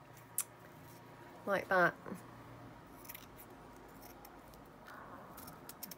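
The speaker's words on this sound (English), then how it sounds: "So I would snip this down" Scissors snip through material while trimming a craft pocket page, with two close crisp cuts near the start and a few fainter clicks later, quiet and close under soft room noise; someone speaks briefly.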